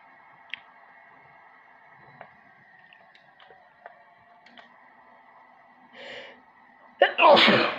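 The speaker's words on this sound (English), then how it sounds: "I just sneezed." A single sharp human sneeze bursts out near the end, close and loud, after a few seconds of faint clicks and a quiet hum.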